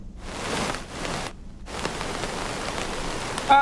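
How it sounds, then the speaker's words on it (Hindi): Torrential rain pours down in Kangra, Himachal Pradesh, during a yellow weather alert, a dense steady hiss that briefly drops out before resuming just as heavy, with no voices. "लगातार सुबह से ही बारिश जारी है और मूसलाधार बारिश है"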